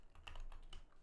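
Keys clacking on a small computer keyboard in quick, uneven bursts, close and clear with no talk.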